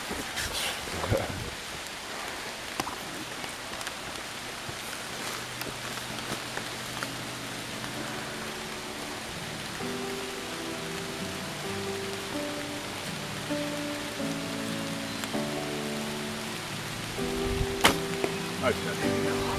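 Steady rain falls on surfaces outdoors, a continuous soft hiss with scattered drops that persists throughout, with faint tonal sounds and a brief louder patter near the end.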